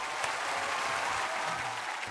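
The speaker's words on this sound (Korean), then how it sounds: "박수 한번 주세요." Steady applause from a live comedy show audience, dense and even for about two seconds, moderately loud with no talking on top.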